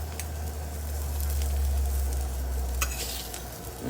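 Bacon frying in a pan beside French toast on the stove: a steady close sizzle and hiss with a few brief scraping stirs, and no talking.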